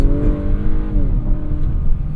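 A 2024 Acura RDX engine revs in sport mode, a steady near rumble with harmonic tones that rise and fall slightly, heard from inside the car with no talking.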